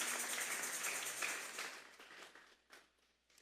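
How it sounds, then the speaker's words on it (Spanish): A church congregation applauds, a dense burst of clapping that fades away over a few seconds into scattered claps, with no talk. "Vamos a darle una ofrenda de palmas a Dios en esta hora."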